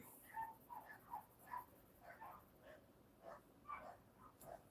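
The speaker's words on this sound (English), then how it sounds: "I hear the neighbor let the dogs out" The neighbor's dogs bark outside, faint and distant, in a string of short repeated yips and barks with brief pauses between them.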